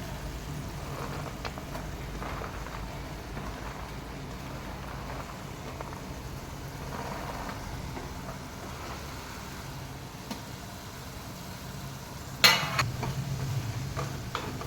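Beans tossed into a chilli spice mix and stirred in a frying pan give a soft, steady scraping sizzle at close range, with one sharp clatter near the end.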